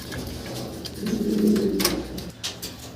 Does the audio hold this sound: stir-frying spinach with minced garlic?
no